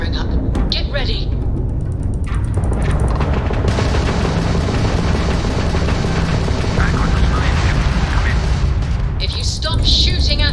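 Ship weapons fire in a Starfield space battle, heard as dense, loud booming blasts and rapid bursts. The firing continues across the whole stretch, with sharper crackling volleys near the start and the end.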